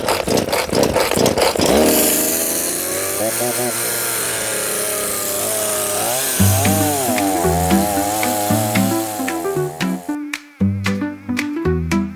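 A chainsaw cuts firewood using a special cutting attachment. The engine opens loud and choppy, then holds a sustained high whine under load. It ends in uneven revs and brief bursts. A voice talks faintly beneath the saw.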